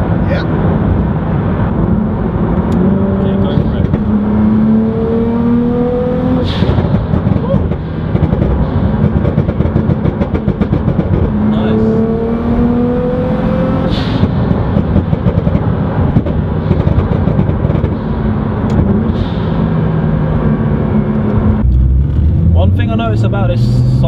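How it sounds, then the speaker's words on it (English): An 800hp gold carbon Nissan GTR with a Titan exhaust accelerates hard, its loud engine note climbing through repeated rising sweeps with gear changes, steady and close throughout, with people talking over it. "It's the Titan exhaust, it's nice, it's nice."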